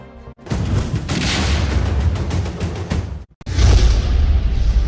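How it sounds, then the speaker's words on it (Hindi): An explosion in Chernihiv, Ukraine, during an air strike, heard as a loud, sustained rumbling roar. The roar dips briefly and then returns in a heavy second surge. "ये धमाका यूक्रेन के चर्निहिव शहर में हुआ"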